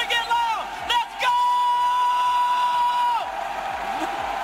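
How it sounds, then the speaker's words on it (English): An esports arena crowd at a Rocket League major roars and cheers, broad sustained noise under loud electronic tones and a sweeping sound effect, with occasional voices. "The crowd is going wild."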